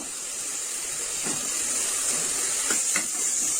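Ground onions sauté in a pan for chicken gravy, giving a steady, close hiss of frying with a few faint clicks and stirs over it.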